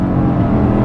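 A Subaru Ascent Onyx with a CVT, shifted manually into second gear under boost during a 0-60 run, gives a loud, steady engine drone from inside the cabin with no break in intensity.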